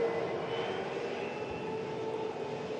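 A Scandinavian airliner from Copenhagen on short final at Manchester Airport during a storm, a steady broadband engine roar at moderate distance that holds even throughout, with no talk.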